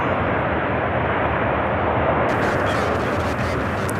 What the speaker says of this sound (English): So this A320neo taking off for Orlando, Florida, Spirit Airlines flight